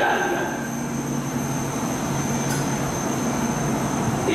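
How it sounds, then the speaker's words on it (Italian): An Italian train arrives at the station platform, rumbling steadily along the track, loud and continuous, with a faint high-pitched whine above the low roar. "Treno in arrivo al binario 24, allontanarsi dalla linea gialla."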